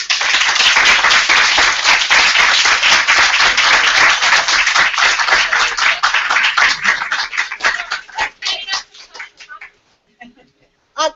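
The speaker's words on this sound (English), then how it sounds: "I want to ask you all at all 3 sites to give a round of applause for Alicia Page" Sustained audience applause at a youth engagement summit, dense, loud clapping that holds steady, then thins into scattered claps and fades out near the end.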